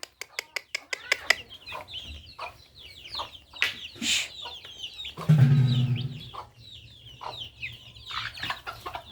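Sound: chickens and chicks clucking at feeding call

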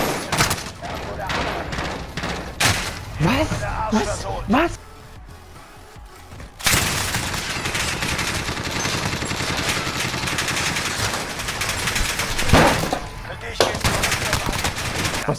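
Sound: PKM machine gun gunfire in video game Warzone

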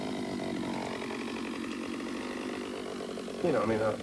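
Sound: chainsaw running

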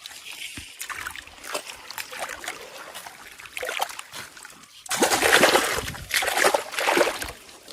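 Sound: water rushing in a river pool

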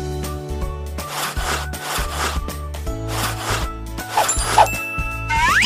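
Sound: rubbing, scrubbing sound

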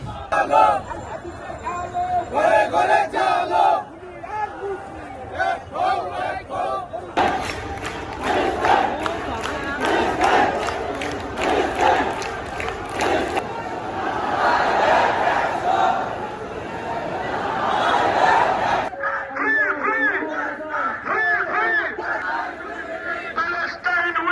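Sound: protest crowd chanting slogan "Palestine"

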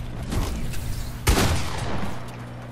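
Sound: gunshot from the Fortnite video game

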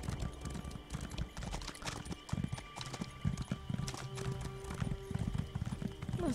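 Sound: horse hooves clip-clopping, from a video game

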